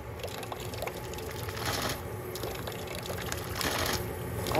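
A primer pump on a monitor injector draws water up a tube about three or four feet at 35 psi, giving a steady close gurgling rush of water that swells louder toward the end, with no talking.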